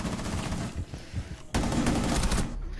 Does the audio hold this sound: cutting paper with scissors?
no